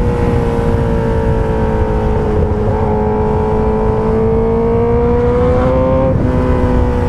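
A Honda CBR1000RR Repsol Edition sport motorcycle runs close by, its engine holding a loud steady whine with gear-change dips and pitch rising and falling over seven seconds.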